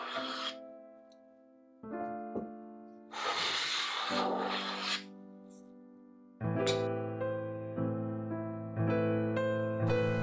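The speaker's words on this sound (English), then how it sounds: "I need to smooth the surfaces because it would be a major pain to sand these surfaces after assembly." Wooden side parts of a baby cot are sanded smooth before assembly. Rough rasping strokes come in short bursts over steady background music.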